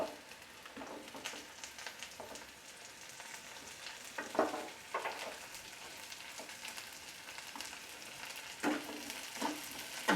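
Carrots fry over medium heat in a pan with lightly browned onions for pasta, a quiet steady sizzle broken by intermittent scraping stirs.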